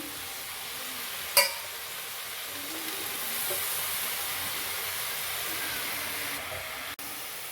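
Pumpkin greens frying with potatoes and eggplant in a pan, giving a steady close hiss of sizzling with one sharp clatter of the utensil near the start and no talking.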